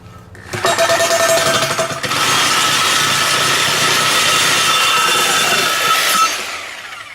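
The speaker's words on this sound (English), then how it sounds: "I'm just going to get my Sawzall out and try to do it with an aluminum cutting blade." A Sawzall with an aluminum cutting blade cuts into an air tank, a loud, close, continuous buzzing rasp that starts abruptly and holds for about six seconds before easing off.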